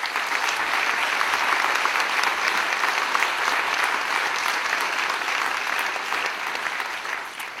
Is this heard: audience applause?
yes